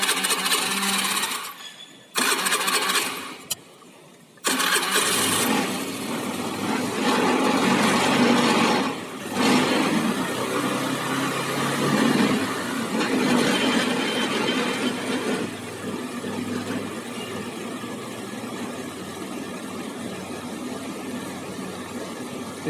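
A motorcycle engine idles while its carburetor screw is adjusted, a steady mechanical drone after a few brief cutouts near the start, running continuously at close range with a slight dip in level midway.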